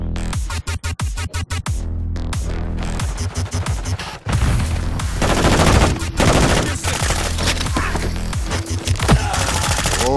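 Rapid automatic fire from a big gun cutting down zombies in a shooter video game, bursts of sharp repeated shots giving way to heavy booming blasts and dense continuous gunfire, loud and close.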